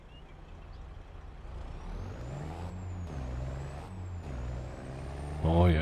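An old Volvo truck hauling a full load through snow, its engine droning steadily and close, rising and falling as it pulls, with a hiss of air brakes or air release near the end; someone talks over it.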